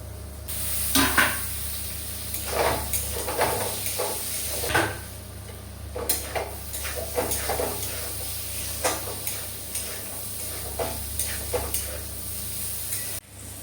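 Spices and ginger frying in a pan, a continuous sizzle broken by repeated scraping stirs and bursts of spattering hiss, close and fairly loud.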